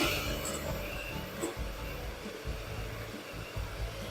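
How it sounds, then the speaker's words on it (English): Eggs and sugar whisked for a sponge cake, a steady continuous whirring drone close by that holds level for the whole stretch without pause, with no talk over it. "I'm only going to aerate my eggs by whisking, and that means incorporating air into my eggs"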